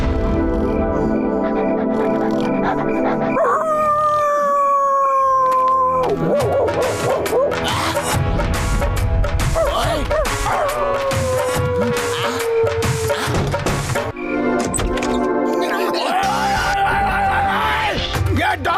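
A puppy indoors at night yelps, barks and lets out rising howls in a restless, uneven series, loud and close, against background noise; no clear speech.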